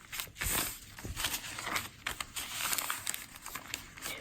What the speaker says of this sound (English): I may fold a little bit more, a smaller square.